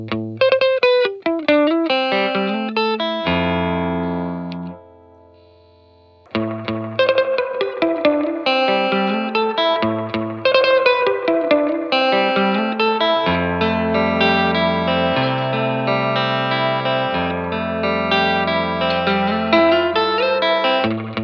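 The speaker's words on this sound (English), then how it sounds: "let's hear the difference between the three reverb modes" Electric guitar chords and picked notes through a SolidGoldFX Surf Rider IV spring reverb pedal, drenched in splashy spring reverb, with a brief pause before playing resumes with lingering, echoing tails.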